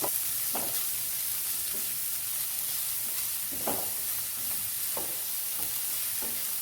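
Chopped onion sautés in melted butter with a steady, close sizzle throughout, broken by scattered soft scrapes and stirring taps.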